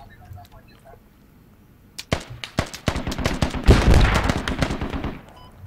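Rapid gunfire bursts from an infantry firefight in the military shooter game Squad, starting after a quiet opening, then growing into dense, loud overlapping shots and volleys before easing off near the end.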